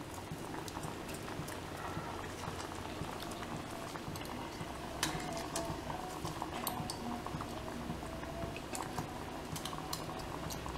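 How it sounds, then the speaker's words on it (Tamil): A pot of masala curry bubbles steadily at a rolling boil, with soft liquid popping and occasional faint clinks. The sound is quiet and close, with no voices. "நல்லா கொதிச்சிருச்சு"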